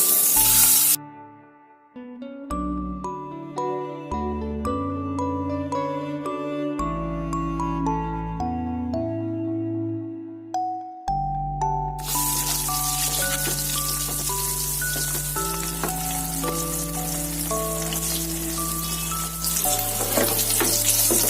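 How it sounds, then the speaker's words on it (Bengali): Eggs fry in hot mustard oil in a wok, the sizzle starting quietly and then swelling into a loud, crackling spatter, with melodic background music playing throughout. "এবার আমি ডিমগুলো একটু ভেজে নেব"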